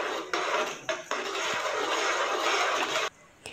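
A spoon stirs a milk, sugar and condensed milk mixture for pistachio-almond milk in a pot, making a steady, close scraping and clattering against the metal for about three seconds before stopping.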